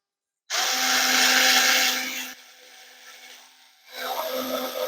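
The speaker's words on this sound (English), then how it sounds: "So we're going to pop that drill bit in. You're going to see if we can actually drill through." A Ryobi FVD51K multi-head screwdriver with a small drill bit buzzes steadily as it bores through thin wood, loud and close for about two seconds, easing to a quieter whir, then picking up again near the end.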